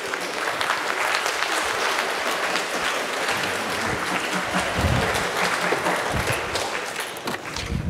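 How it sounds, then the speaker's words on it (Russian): A lecture-hall audience claps steadily throughout, a dense, even wash of applause that stays at a constant level, close and continuous without speech. "Да, хлопать можно."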